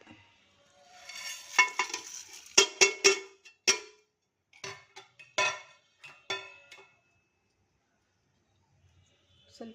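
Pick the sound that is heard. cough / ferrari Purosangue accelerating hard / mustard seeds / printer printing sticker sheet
mustard seeds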